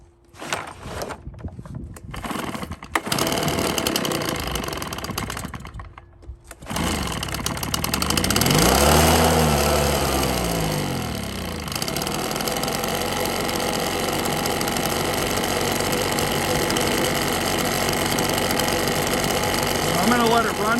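Husqvarna 130BT backpack leaf blower two-stroke engine catching after a pull start and settling into a loud, steady running drone, close by with some rough revving early on.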